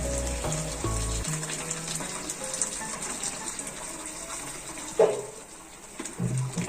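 Meat sizzles and fries in a pan, then boiling water is poured in with a gushing splash and bubbling hiss, moderately close with no talking.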